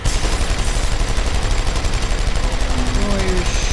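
Gunfire in the game Deus Ex: Human Revolution, a loud, unbroken stream of rapid automatic shots close by, with a brief voice near the end.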